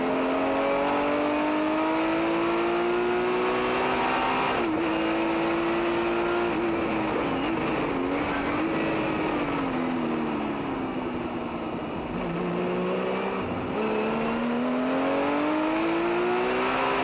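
Race cars, including a Porsche 935, roar at Monterey in a continuous loud engine drone, pitch rising and falling as they accelerate and shift along the track.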